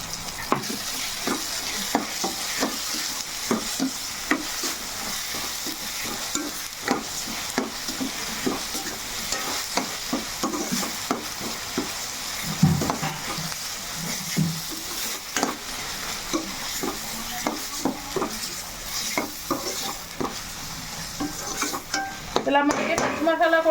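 Masala paste for a fish curry sizzles and fries in a pan, with steady frying crackle and repeated stirring scrapes running throughout, close and fairly loud, with no talking.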